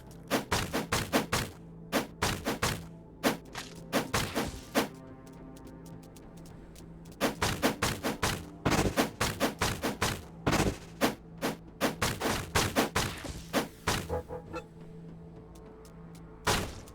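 Bursts of sharp, punchy game explosions and impacts fire in rapid clusters, loud and close, with a quieter gap in the middle and a final single blast.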